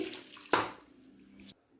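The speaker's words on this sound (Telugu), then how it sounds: "ఇందులో కొంచెం వాటర్ వేసి" A short splash of water poured into a chicken curry masala, a brief close pour that trails off quickly into near silence.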